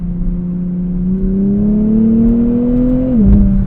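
A 2024 Nissan Z Nismo engine hums at steady revs, pitch rising slowly, then drops abruptly with a brief blip as it downshifts, driven at sunset.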